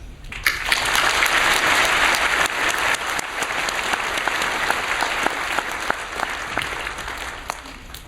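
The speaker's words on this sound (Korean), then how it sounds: "환영의 또 감사의 박수로 모시도록 하겠습니다" A church congregation applauds to welcome the pastor to the pulpit, a full, sustained roar of many hands clapping that starts abruptly and continues steadily for several seconds, fading slightly toward the end.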